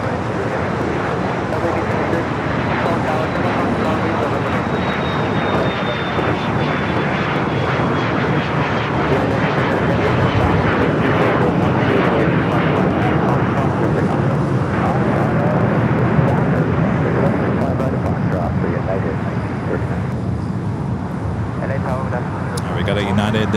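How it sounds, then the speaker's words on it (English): A United Boeing 787 Dreamliner takes off from runway 25 right at LAX, its engines a loud, sustained roar that holds steady for over twenty seconds with a faint descending whine early on. A voice talks over the jet noise. "We got a United Dreamliner lined up for takeoff."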